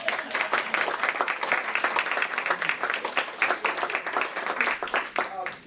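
An audience claps after a lecture on the American culture wars, a dense, steady round of applause close by that holds for several seconds before tapering off, with a voice faintly underneath.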